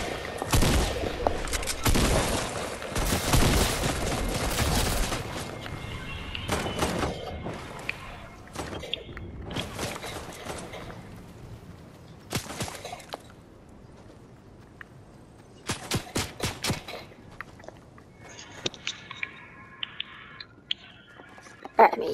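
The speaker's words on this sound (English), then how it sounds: "is somebody shooting at me?" Gunfire in the video game Fortnite, with dense rapid bursts early on and then scattered single shots and short volleys, mixed with game sounds and a person talking.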